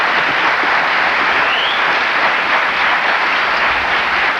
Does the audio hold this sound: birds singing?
no